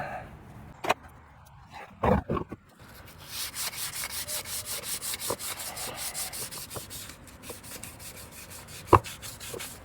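Worn, disintegrating sandpaper scrubs a rusty, pitted motorhome hydraulic leveling jack in rapid back-and-forth strokes, preceded by a few sharp knocks and handling clatters.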